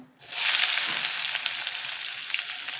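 A large, finely chopped onion drops into hot oil with urad dal for radish leaf palya, bursting into a loud, close, continuous sizzle that holds steady for several seconds.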